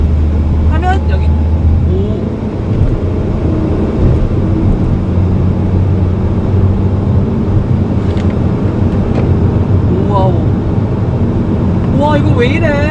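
A Citroen C3 Aircross SUV driving in sport mode, a steady engine and road drone heard from inside the cabin throughout, with a person talking over it.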